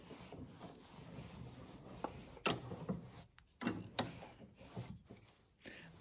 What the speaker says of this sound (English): So let's put the piece into the vise.